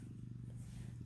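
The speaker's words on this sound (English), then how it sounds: "She's purring." A cat purrs beneath a blanket, a soft, steady low rumble pulsing evenly and close, faint and alone without talk.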